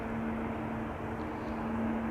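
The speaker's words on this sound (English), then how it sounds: "You can hear the engines." Distant aircraft engines at Amsterdam Schiphol Airport produce a low, steady droning rumble with a constant hum, faint and continuous throughout without any speech.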